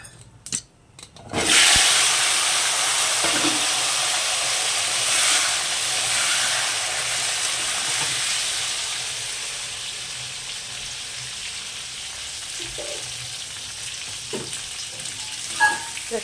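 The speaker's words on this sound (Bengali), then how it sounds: "তেলের মধ্যে জিরে তেজপাতা ফোড়ন দেবেন" Cumin seeds and bay leaf dropped into hot oil, left over from frying fish, for a Bengali katla fish curry: a few clatters, then a loud burst of hissing sizzle that settles into a steady crackling fry with occasional stirring knocks.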